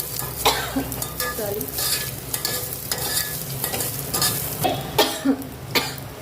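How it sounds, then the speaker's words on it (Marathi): Garlic and chili tempering sizzles and crackles steadily in hot oil, with bursts of popping and occasional stirring scrapes, close and continuous with no talking. "फोडणी छान अशी आपली तडतडलेली आहे आणि ठसकेदार फोडणी तयार झालेली आहे."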